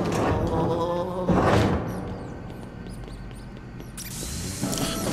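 Small mice squeak in quick, high chirps as Luigi's vacuum sucks them up in the video game Luigi's Mansion 3. The squeaks sit over a steady whooshing suction roar and some dull thumps, and no one speaks.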